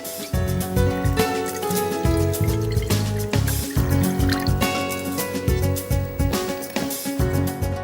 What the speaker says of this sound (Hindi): थोड़ा सा पानी लीजिए एक पैन में।